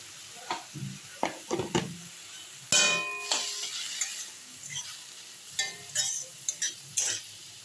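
Radish greens with a little turmeric fry in a pan with a soft, steady sizzle, broken by scattered clinks and scrapes of stirring and one louder burst of hissing partway through.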